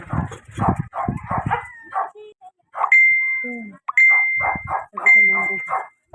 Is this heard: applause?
no